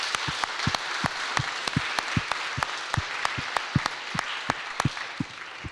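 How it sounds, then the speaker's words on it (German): A fairly small audience at the final presentation of a youth hackathon in Dresden applauds with distinct, separate claps in a loose, steady rhythm that carries on evenly throughout. "Auch dafür bitte nochmal einen Applaus."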